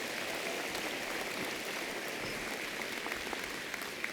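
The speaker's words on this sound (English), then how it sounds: "how about a round of applause for the family members and significant others?" An audience at a pharmacy college spring commencement ceremony applauds family members, steady dense clapping from a large crowd in a big hall, with no speech over it.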